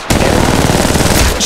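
Loud, continuous automatic gunfire from the video game Apex Legends Mobile, rapid shots packed into one sustained burst, close up and alone.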